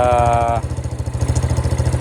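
A Yamaha Y250 motorcycle engine starts with a brief whine, then settles into a loud, close, lumpy idle with a steady pulsing beat.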